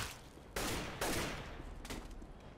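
Bursts of CS:GO gunfire, several loud rapid volleys separated by short gaps, close and dense with no talking.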